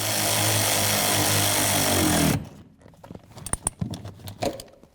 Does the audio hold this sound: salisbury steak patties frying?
no